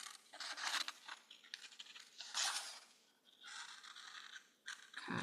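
Scissors cutting through a paper cup along a marked line, a series of close, crisp snips and papery scrapes in short bursts with brief pauses between them.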